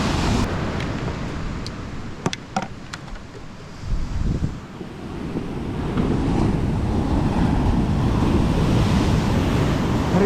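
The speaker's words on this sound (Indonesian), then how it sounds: "Ngeri sekali ombaknya." Big ocean waves break and roll onto a beach where someone is shore casting, a loud continuous surf roar with wind buffeting the microphone and the surge building toward the end.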